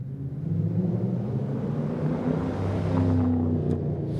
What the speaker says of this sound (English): I think an American V8 sounds great.